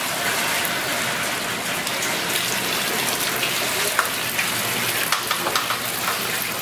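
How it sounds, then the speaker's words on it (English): Steady rushing water pours from a pump into an oil containment barrier, a dense continuous splashing flow with a few small gurgles and splashes near the end, close and fairly loud with no talking. "We're still pumping water into the barrier"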